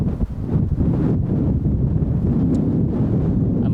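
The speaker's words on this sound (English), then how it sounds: "And also it's quite windy today" Strong wind at the beach buffets the microphone in a steady, loud roar with gusty surges, and no voices are heard over it.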